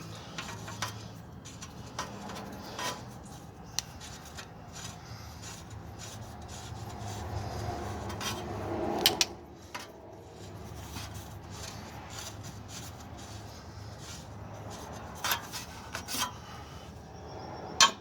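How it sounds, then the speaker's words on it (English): A new oxygen sensor, bank 1 sensor 2, being threaded by hand into the exhaust of a 2001 Dodge 1500, giving soft continuous rubbing and rasping scrapes with small metallic ticks, close and fairly quiet with no talking. "This is what the new one looks like. So I'm going to screw it in."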